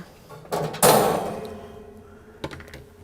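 A metal grate tray is pulled from a sublimation oven, giving a sharp clang and a longer ringing metallic rattle that fades out, followed by a softer clink near the end.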